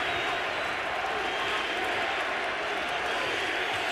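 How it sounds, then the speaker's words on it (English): A stadium crowd at an NFL game between the Carolina Panthers and Atlanta Falcons chanting defense, a dense, steady roar with a commentator talking over it. "The crowd chants defense."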